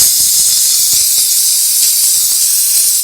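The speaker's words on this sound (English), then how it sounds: "steam cleaner. But I'll be honest, the steam cleaner doesn't do that much for rust." Steam cleaner hissing steadily and loudly on a rusty screw of a chrome fan during a repair, a continuous broad hiss running the whole time with faint clicks beneath.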